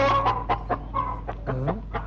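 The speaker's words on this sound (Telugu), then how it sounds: "పక్కింటి కోడి మన ఇంటి గోడకి వస్తుందిరా." A chicken clucks repeatedly in short, close bursts, a quick uneven series of throaty clucks with no talking.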